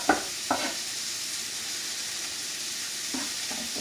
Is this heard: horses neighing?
no